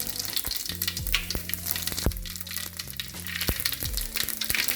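Cumin seeds frying in hot oil in a kadai for gobi manchurian, a steady close sizzle with sharp spattering pops and a few clinks of a stirring spoon, no talking.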